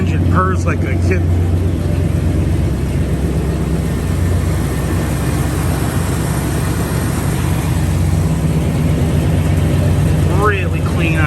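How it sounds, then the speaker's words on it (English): A 1971 Oldsmobile Cutlass S 442 replica's engine idles with a steady, low rumble continuously throughout, with people talking over it. "Engine purrs like a kitten."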